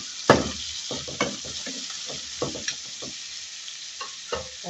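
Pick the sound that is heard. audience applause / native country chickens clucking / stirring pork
stirring pork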